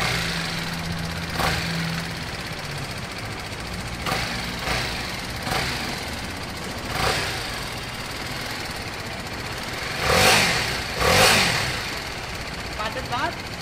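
A BMW G310R motorcycle engine idles with a rough, knocking rumble, then revs twice in quick bursts near the end.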